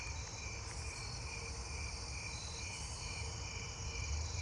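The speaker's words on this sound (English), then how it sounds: "It's a short-winged meadow katydid. I hope you can hear it." A short-winged meadow katydid calls continuously in a steady high buzzing trill, faint and far-off amid other night insects, unbroken with no voices.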